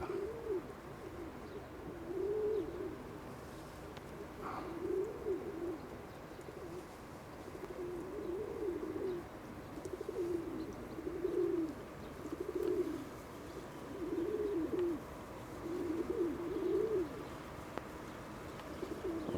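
Domestic pigeons coo in a steady series of soft, throaty calls repeating every second or two, moderately close over a faint background hiss, with no talking.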